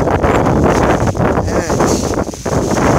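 Strong wind buffets the microphone in continuous gusty rushes, with rustling noise throughout, outdoors while foraging for mushrooms, a plastic bag flapping in the wind.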